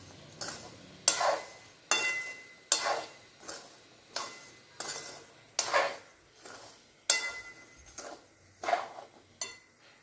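Salted peanuts roast in a pan while being stirred, producing about a dozen evenly spaced scraping sweeps with rattling nuts, close and quiet, with no talking.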